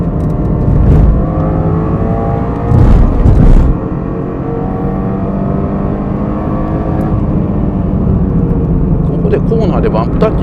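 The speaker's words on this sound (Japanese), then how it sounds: "後ろなんか速い車来ました。" Sustained engine roar of a GR86 lapping Fuji Speedway with a faster car approaching from behind, steady tonal drone with shifting pitch, loud and continuous, while someone talks over it.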